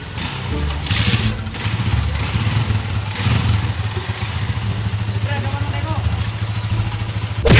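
A 1000 cc motorcycle engine in a racing video game, a steady low droning hum that holds near and fairly loud throughout, with a brief louder burst near the end.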